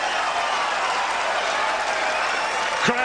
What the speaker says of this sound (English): Crowd salutes Alan Norris.